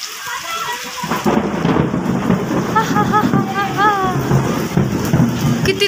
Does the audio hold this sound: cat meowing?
no